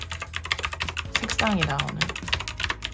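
Rapid clacking keystrokes on an Anne Pro 2 Bluetooth mechanical keyboard, typed steadily and close up while someone talks over the clicks.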